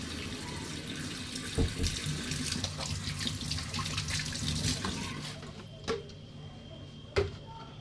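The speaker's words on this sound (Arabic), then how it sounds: "نغسل ايديا" A kitchen or bathroom tap runs steadily into a sink while hands are washed, a close, continuous splashing stream with a few small knocks near the end.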